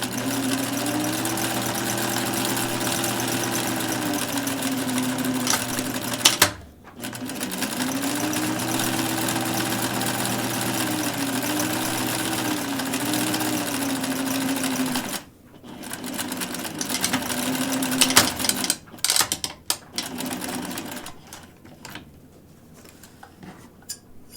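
A sewing machine stitches a buttonhole in dense, thick fabric, running in a fast steady whir with rhythmic ticking, pausing briefly twice, then ending in scattered clicks and handling noises.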